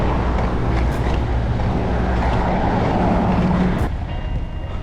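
Car traffic on Main Street in Santa Monica, a continuous broadband roar of passing vehicles and road noise heard up close, easing off slightly near the end.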